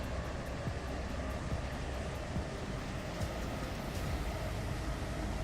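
Steady rumble of a Class 700 electric train running inside the Roblox SCR rail game, a continuous even drone with no talk over it.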